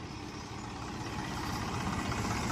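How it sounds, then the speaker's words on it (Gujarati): A tractor delivering cattle fodder runs at a steady idle, a low, continuous engine rumble that holds evenly and grows slightly louder toward the end. "ગાયુંનો ચારો આવી ગયું છે ટ્રેક્ટર."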